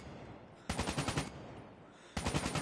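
Automatic gunfire in the mobile shooter game Call of Duty Mobile, two sharp rapid bursts of shots, the first about half a second long and the second starting near the end, close and loud with a quiet gap between.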